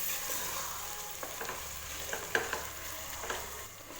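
Chicken pieces sautéing in a pan for biryani, a soft steady sizzle with occasional light stirring taps, close and alone without talk.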